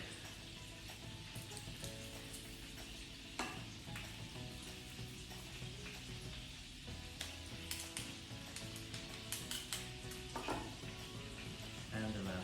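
Garlic fries in a pan with a soft, continuous sizzle, broken by light clicks and scrapes of stirring; quiet and close, with no talking.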